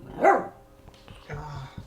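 A grumpy female puppy lets out one sharp, close bark, followed by a short stretch of quieter sound and a brief human voice.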